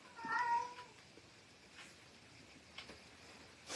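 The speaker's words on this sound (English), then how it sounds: "Sorry about noisy cats" A house cat named Ginger meows a few times near the start, a short and fairly close cry, then only faint ticks and room sounds follow.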